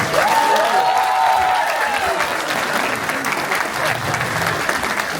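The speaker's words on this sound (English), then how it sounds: "All right, everybody give them a big round of applause." Sustained applause from an audience at a public Tibetan show in Paris, loud and dense clapping filling the room, with a few voices and cheers rising briefly over it.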